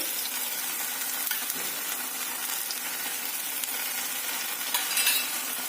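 Cucumber dhapate, a flatbread made with bhajani flour, sizzles steadily in oil on a pan after being flipped, a dense, even frying hiss close by with a few faint scrapes and no voices.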